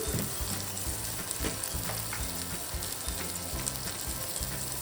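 Vegetables fry in a pan for tomato rasam, giving a steady, close, crackling sizzle with occasional soft stirring scrapes throughout, and no voices.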